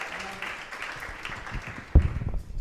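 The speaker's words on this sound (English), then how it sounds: "Big round of applause to Gabby Best for hosting the entire evening." An audience at a live comedy night in Walthamstow claps for the evening's host, soft and fairly distant at first, then a sudden louder burst near the end.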